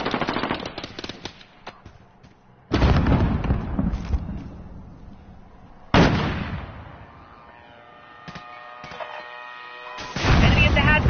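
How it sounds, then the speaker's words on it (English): Grenade blasts in a video-game firefight hit as several loud, heavy booms, each trailing off into a rumbling decay, with sharp bursts of gunfire crackling between them. "Grenade out!"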